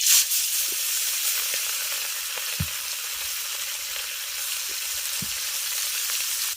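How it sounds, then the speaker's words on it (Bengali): Mourala fish frying in hot oil in a kadai, a steady loud sizzle and hiss throughout with a few soft knocks, close up and without voices. "তেল গরম হয়ে গেছে এবার মাছগুলো গরম তেলের মধ্যে দিয়ে দিচ্ছি"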